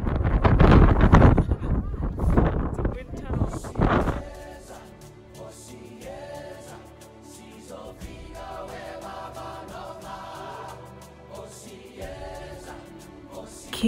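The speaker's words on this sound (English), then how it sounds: "During our visit, it was extremely windy." Strong wind buffets the microphone at the Cape Peninsula near the Cape of Good Hope, loud roaring gusts for the first few seconds, then easing into a steadier, quieter blustery rumble.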